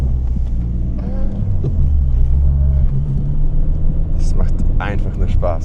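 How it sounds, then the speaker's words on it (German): 1991 Peugeot 205 GTI driving through the Le Mans infield, a steady, loud in-cabin engine rumble that rises and falls slightly, with someone talking over it. "Wir fahren im Infield in Le Mans den Peugeot 205 GTI aus dem Baujahr 91."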